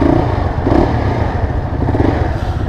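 Dirt bike motorcycle in Kathmandu, its engine running with a steady rough rumble and rattly mechanical clatter, loud and close throughout, with no talk.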